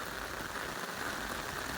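Heavy rain pours down in Nagadevanahalli, Bengaluru: a dense, even hiss of falling water that holds steady and fairly loud for the whole stretch, with no voices.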